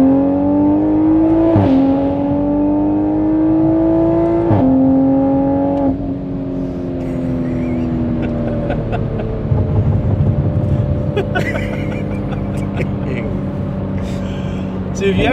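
Tuned BMW M3 F80 with Bootmod3 stage 2 tune, methanol injection and ZF transmission accelerating hard, engine note climbing in pitch with quick drops at each gearshift, loud and close, with a voice exclaiming briefly underneath.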